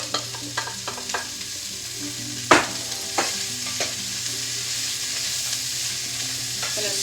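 Onion, rosemary, asparagus and zucchini sauté in a soup pot, giving a steady low sizzle broken by scattered spoon clicks and one sharp scrape as the vegetables are stirred.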